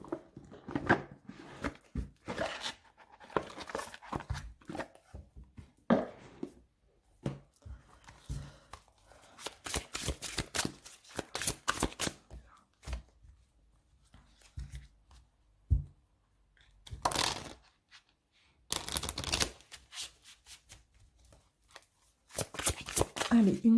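Oracle cards from a tree-of-life oracle deck are shuffled and handled in a quiet room, giving repeated crisp riffling bursts and soft card slaps separated by short pauses.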